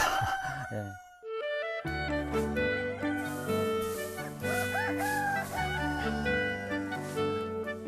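A rooster crows among clucking chickens on a naturally farmed flock of about 700 birds in Yeoju, Gyeonggi, against loud music playing nearby. A voice says a single short word.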